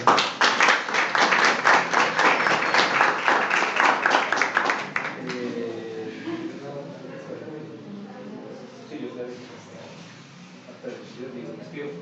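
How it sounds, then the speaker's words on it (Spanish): An audience claps steadily for about five seconds at a talk on the Lakota as water protectors, then the applause fades and a person begins talking in Spanish over the quieting room. "muchísimas gracias a todos por venir y un aplauso a Alexandra"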